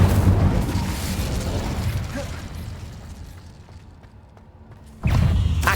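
An Incendio fire spell from Hogwarts Legacy roars out as a loud fiery blast that fades into a low rumble, then another burst erupts sharply near the end.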